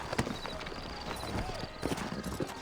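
Horse hooves clip-clopping at a steady walk in the video game Red Dead Redemption, a continuous rhythmic patter under a voice and ambient game sound.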